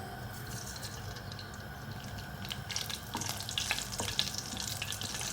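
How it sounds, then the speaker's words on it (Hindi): Whole cumin seeds frying in about a tablespoon of hot oil give a steady, close sizzle with light crackles and a few brief stirring scrapes. "ज़ीरा फ्राई हो गया है।"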